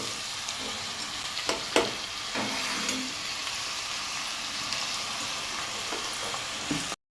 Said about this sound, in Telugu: ఉల్లిపాయ మాత్రం పర్ఫెక్ట్గా మనం వేపుకోవాలి